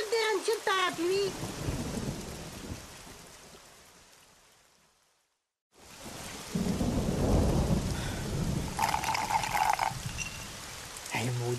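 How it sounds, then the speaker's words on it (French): Heavy rain pours steadily with rolling thunder, loud and close, broken by a few seconds of near silence midway before the downpour resumes; voices talk over the storm at the start and end. "Il mouille non-stop!"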